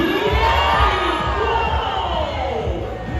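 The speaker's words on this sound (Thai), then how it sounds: "ขอเสียงปรบมือให้กับพี่เทนเนอร์หน่อยค่ะ" An outdoor audience at a dolphin show at Safari World in Thailand cheers and applauds, with loud, continuous crowd noise and shouting. A voice with a strong low tone carries through the din.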